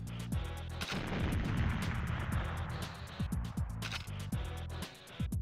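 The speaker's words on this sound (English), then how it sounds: "oh my god, grenades." Grenades bursting in the shooter GoldenEye, with repeated sharp explosive cracks and thuds over a dense, noisy game background, spaced irregularly through the stretch.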